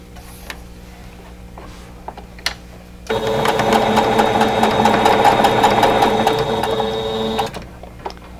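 Sewing machine stitching quilt block pieces together: after a few quiet clicks, the motor runs in a steady, rapid mechanical whir for several seconds, then stops, close and clear.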